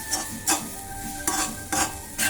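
Carrots frying with salt in a pan, stirred with a spoon in four distinct scraping strokes over a soft steady sizzle, close and fairly loud.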